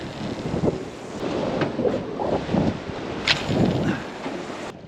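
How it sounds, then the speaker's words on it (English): Gusty wind at the Montebello Islands rumbles and buffets against the microphone throughout, loud and close, with occasional sharper bumps and no talking. "hope for this wind to die off because it's still quite windy."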